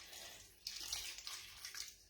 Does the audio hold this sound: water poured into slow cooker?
yes